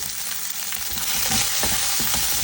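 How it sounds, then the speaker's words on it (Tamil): Onions frying in a pan with a little salt while preparing shrimp fried rice, giving a loud, steady, close sizzle with faint stirring scrapes underneath. "வெங்காயத்தை வந்து பொரித்து கொள்ள போகிறோம்"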